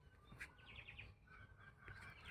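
Soft cooing zebra dove calls repeat against a quiet outdoor background, faint and somewhat distant, with a few higher chirps mixed in.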